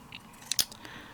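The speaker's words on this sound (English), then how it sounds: "I'm going to cut it with scissors." A couple of quick, crisp snips as scissors cut through scrapbooking paper, close and fairly loud, with a short papery rustle before and after and no talk.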